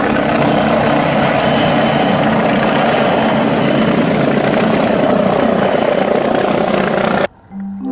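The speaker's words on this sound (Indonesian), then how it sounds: "Nah, yang terakhir ada helikopter polisi." A toy police helicopter sound effect whirs loudly and continuously with a chopping rotor texture, then cuts off abruptly into a short electronic tone.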